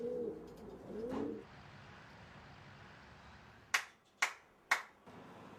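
Racing pigeons in a loft give soft low cooing for the first second or so, then three sharp snap-like flutters or claps ring out near the end over a quiet background.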